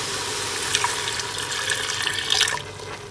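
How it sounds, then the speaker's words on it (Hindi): Half a cup of plain water poured into a pot of daal maash with tomato pieces, a steady close splashing and trickling pour that runs the full length with no voices. "इसमें कुछ और नहीं, सिर्फ पानी इस्तेमाल होगा, आधा कप।"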